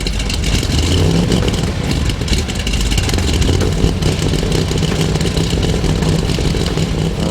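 A 1967 Chevrolet Corvette L88 with a 427 V8 revs loudly and close, a rough, dense engine roar with lumpy pulses that holds steady throughout, with no speech.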